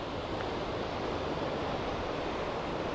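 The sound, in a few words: sea waves at the shore, Himchori Cox's Bazar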